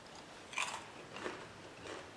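A crunchy Brutti ma Buoni biscuit is bitten and chewed, giving one crisp crack followed by two softer crunches, close and alone without talk.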